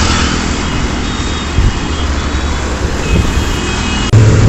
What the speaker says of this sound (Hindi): थोड़ा ट्रैफिक बढ़ गया तो बसों का आना जाना स्टार्ट हो गया है।